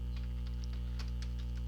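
Keys tapped on a computer keyboard while writing Java code, light irregular clicks over a strong steady electrical hum.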